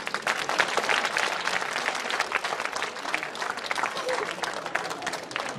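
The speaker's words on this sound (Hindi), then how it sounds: "समझ गए तो ताली बजाओ।" An audience at a school alumni meet claps in a lively, uneven burst of many hands, fairly close and filling the room for a few seconds.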